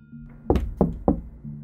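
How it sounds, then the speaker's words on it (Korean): Three firm, evenly spaced knocks on a bedroom door at night, close and hollow, over a low steady hum. "할아버지가 방문을 노크하며 내가 자는지 물어보았다"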